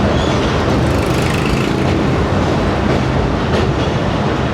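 A Hazara Express passenger train arrives, its loud broadband rumble and rolling clatter of carriages filling the whole stretch steadily and close by, with no voices over it.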